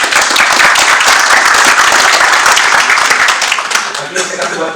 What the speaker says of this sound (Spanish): Aquí tenemos un aplauso.